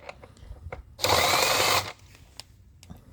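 A power gun spins out a 10 mm bolt from the top of a Mini Cooper Clubman air filter housing, one loud, steady whirring burst under a second long, framed by light clicks and handling noise.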